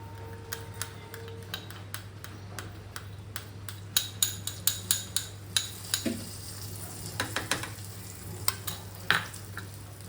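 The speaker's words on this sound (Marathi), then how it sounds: "आता ह्यात मी घालणार आहे सर्वात पहिलं थोडंसं जिरं" A small spoonful of cumin seeds in a pan of hot oil for chole samosa filling, a steady light sizzle overlaid with a rapid series of crisp ticking pops and clicks of stirring, near and without speech.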